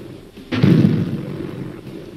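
A tank cannon fires once in the HoloLens game Holo Tankz, a sudden deep thud that rolls into a rumbling decay lasting over a second, with no talk.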